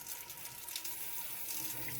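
Tap water pours steadily into a sink, rinsing fresh produce to wash dirt off before slicing, a constant close hiss with no voices.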